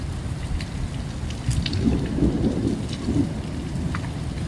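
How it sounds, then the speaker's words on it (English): Rain falls steadily outdoors in Las Vegas with low thunder rumbling beneath it, a dense continuous hiss with a deeper roll swelling in the middle. "It's raining."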